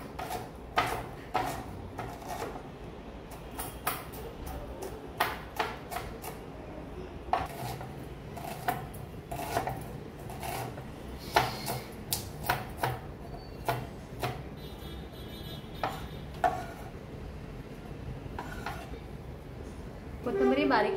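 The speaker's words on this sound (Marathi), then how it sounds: "आता हा पण आपण चिरून घेऊया। बारीक असा चिरायचा आहे।" A knife chops an onion finely on a board for Maharashtrian thalipeeth, sharp irregular knocks in quick bursts close by, with a voice talking in between and light clatter of utensils.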